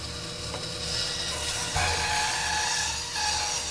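A CNC router cutting a V-carve inlay in wood, heard as a loud continuous high whine with a rough, rasping cutting texture and a low hum beneath, holding steady for several seconds.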